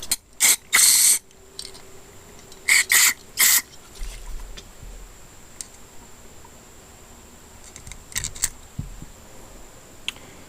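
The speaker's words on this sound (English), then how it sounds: "Now I'm just gonna take this carburetor apart and clean it out" Sharp metallic clicks and short bursts of carb cleaner spray, followed by quieter tinkering and small tool sounds as a Yamaha YZ450 motorcycle carburetor is taken apart up close.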